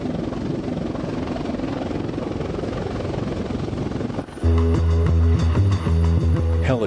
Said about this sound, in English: Helicopters are especially critical to battlefield mobility.